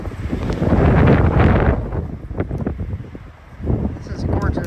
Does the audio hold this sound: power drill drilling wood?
no